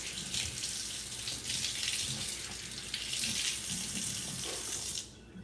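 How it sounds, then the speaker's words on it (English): Tap water runs steadily into a sink while a makeup brush is rinsed, a continuous close hiss of splashing water that stops abruptly near the end. "So running water,"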